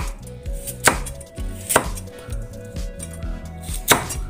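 A knife slices through carrot halves on a cutting board in crisp, sharp chops at an irregular pace, about three distinct hits over quiet background hum.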